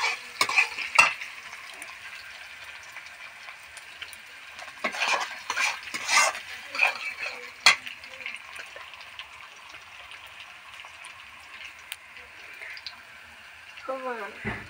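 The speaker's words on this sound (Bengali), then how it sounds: "এবার পেঁয়াজটা আমি তেলের মধ্যে দিয়ে দিয়েছি।" Onions sizzle in hot oil with cumin seeds as a spoon stirs the pan in bursts of scraping and clinks, with some voices in the background.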